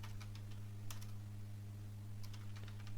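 Typing on a computer keyboard while working in Adobe Illustrator: scattered, faint key clicks in small bursts over a steady low electrical hum, with no talking.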